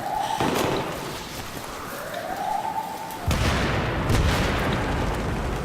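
A bomb explodes during a Battlefield 3 campaign mission set around a rigged train, a heavy booming blast that rolls into a sustained rumbling roar amid gunfire-like game effects, loud and near.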